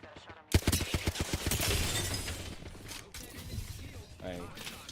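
Knuckle cluster weapon fire in a shooter game: a rapid burst of sharp repeated shots followed by a dense explosive rumble, with a voice talking over it.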